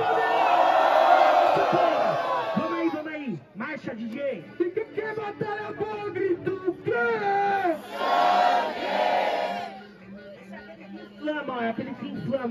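A crowd at a Brazilian street rap battle in Guarulhos, São Paulo, roars with loud cheering, whoops and shouted battle cries, surging in bursts with a brief dip in the middle, the noise packed close and dense.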